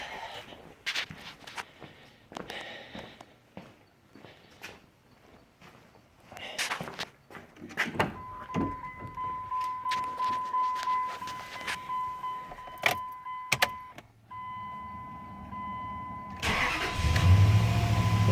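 A 2001 Dodge Dakota with a newly replaced crankshaft position sensor cranks and fires up, then settles into a steady idle, preceded by footsteps and clatter nearby, with a louder burst near the end.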